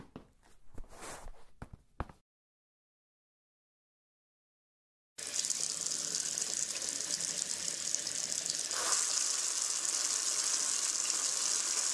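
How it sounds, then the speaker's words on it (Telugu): Water runs from a left-open tap in a steady, bright hiss that starts after a few soft footstep-like thuds and a stretch of dead silence, then continues unbroken to the end. "ట్యాప్లో వాటర్ వదిలేసి ఎక్కడికి వెళ్ళిపోయారు వీళ్ళు?"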